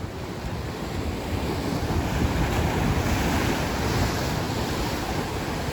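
Sea waves wash onto the beach at Alappuzha, Kerala, a steady roar of surf with wind buffeting the microphone, continuous and fairly loud, with no voices.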